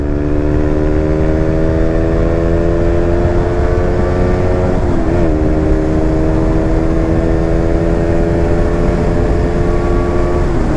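A 2020 KTM Duke 125 motorcycle with a small single-cylinder engine of about 15 horsepower drones steadily while riding near its limit, a loud continuous tonal whine with a brief dip and recovery midway, heavy wind rush beneath.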